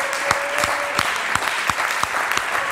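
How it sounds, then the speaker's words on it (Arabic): Rhythmic clapping from a studio audience on a Tunisian TV show, sharp beats spaced roughly every third of a second, with a faint tone underneath. "لا بربي تصفيق عليها هذيك."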